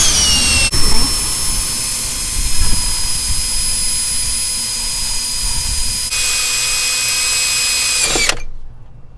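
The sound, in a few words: drilling holes in Honda Accord EGR ports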